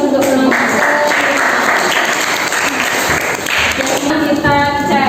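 Students in a classroom applaud a classmate: loud, close group clapping that runs continuously, briefly dips, then swells again, with some voices mixed in.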